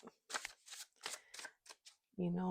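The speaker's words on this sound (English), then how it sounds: "you can still get an overhand shuffle in" Oversized oracle cards shuffled overhand in several quick, soft slaps and rustles close up, with a brief voice sounding at the very end.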